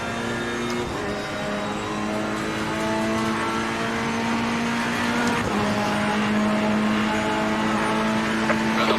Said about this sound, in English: here's another car just going to sail right past me